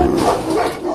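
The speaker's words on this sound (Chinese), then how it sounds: "马上就领教了草原野狗的厉害" Wild steppe dogs bark in a short, dense burst of overlapping yaps and yips, loud and close with no pause.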